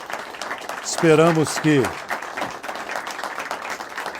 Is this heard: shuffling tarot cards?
no